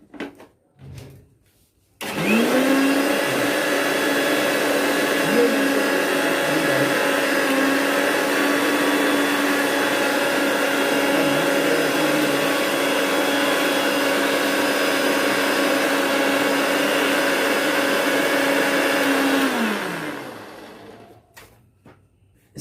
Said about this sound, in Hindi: ये मिक्सी है मेरे पास, और इस मिक्सी में मैं इसे पीसूंगा।